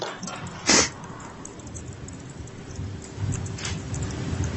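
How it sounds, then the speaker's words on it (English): A few soft, wet sniffs from someone crying, close to the microphone, one sharper sniff early and fainter ones later, against a quiet hissing background. "You might also have heard some sniffling in this recording"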